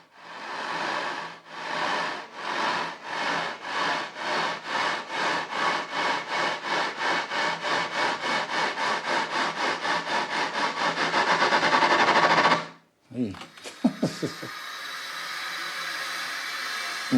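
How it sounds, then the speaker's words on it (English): A reciprocating saw used in a film score cuts in rhythmic strokes that speed up steadily and build tension, each stroke louder, before a sudden break and a few jagged, scraping hits. "that wonderful reciprocating saw, which just ended up being a fantastic device for building tension over time"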